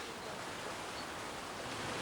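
Waterfall in a rock garden, reached through a narrow cleft in the rock. A steady, dense rush of falling water fills the whole clip at an even, fairly loud level with no talk.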